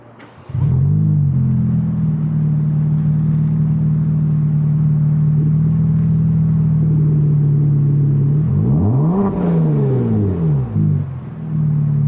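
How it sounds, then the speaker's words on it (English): A Kia Stinger 3.3 twin turbo with an axle-back muffler delete starts up into a loud, deep, steady idle, then revs up and down twice near the end before settling back to idle. "axle back muffler delete, and then out eventually quad tips instead of these horrible oval tips."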